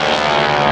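A vintage propeller airplane of the Stearman era drones steadily and loudly up close, a continuous buzzing engine tone with no other sounds.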